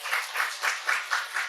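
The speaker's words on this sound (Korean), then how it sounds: "할렐루야, 하나님 박수" A church congregation at Sunday worship claps in a short, even burst of about six beats, with no talking over it.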